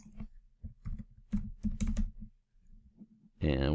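Typing on a computer keyboard while building a website in HTML and CSS, a run of close key clicks in quick irregular bursts, followed by a louder hum near the end.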